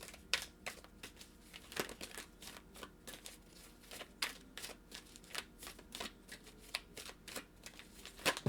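Oracle cards shuffled by hand at a tarot-style reading, a steady run of quiet crisp riffling and flicking snaps, close and soft, with no talking.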